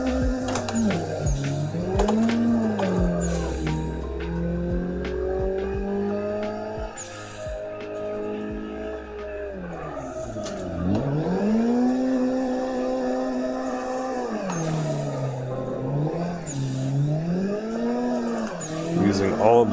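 A car drifting in the racing game Assetto Corsa, its engine revving up and down in repeated sweeps with upshifts, with tire squeal throughout, loud and continuous.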